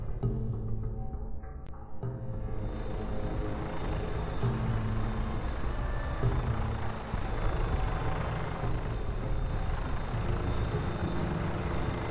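Vertibird aircraft from Fallout 4 in flight, a steady loud rotor and engine roar that fills the whole stretch without letup, with a thin whine riding on top.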